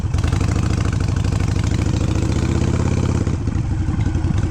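A Harley-Davidson Sportster 883 fitted with a Hammer 1275 big-bore kit rumbles loudly close by, its V-twin engine chugging in a steady, lumpy low-rev beat with mechanical clatter, freshly rebuilt and under break-in.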